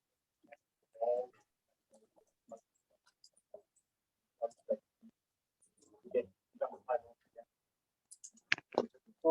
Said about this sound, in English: Sometimes I type so fast, I be typing on top of things.